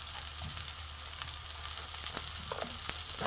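Ground chilli, coriander, cumin and grated ginger fry steadily in a pan for Bengali pea-shoot chops, giving a continuous close sizzle with a few sharp crackles near the end and no talking.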